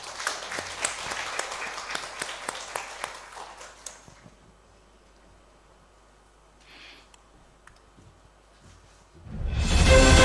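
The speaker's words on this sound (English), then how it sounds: "Let us give a warm round of applause." Warm, dense applause from a conference audience at the official opening of an international conference fills the first few seconds and then fades away. A lull follows, and a louder burst of sound comes in at the close.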